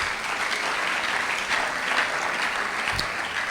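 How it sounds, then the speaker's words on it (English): A conference audience claps for itself in a continuous, full round of applause from many hands, steady and fairly loud for the whole stretch with no talking over it. "Let's keep clapping for ourselves"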